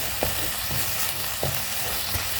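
Mixed vegetables sautéing in a hot pan give off a continuous close frying sizzle, broken by three soft knocks of a spoon stirring at spaced intervals, with no voices.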